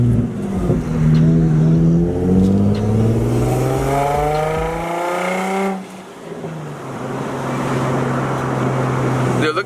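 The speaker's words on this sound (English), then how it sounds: "The car also sounds a lot more beefy" Nissan G35/350Z engine fitted with a large aftermarket air intake revs up loud and close in rising sweeps, drops briefly, then holds a steady high drone; voices talk over it.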